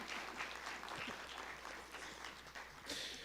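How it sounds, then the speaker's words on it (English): Audience applause for the judges at a scholarship quiz competition forms a steady, moderately distant patter of many hands, fairly even throughout with a slight swell at the end. "You better clap for them."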